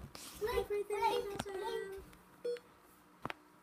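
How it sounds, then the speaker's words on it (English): Short electronic beeps from a low-health warning in a video game, several small tonal bleeps in quick clusters, fairly faint, mixed with game sounds and brief speech. "You hear that little blinking sound?"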